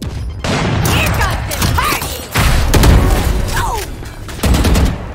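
A grenade goes off amid gunfire in the tactical shooter Valorant, loud sharp bursts and thumping blasts in clusters, with faint voices present.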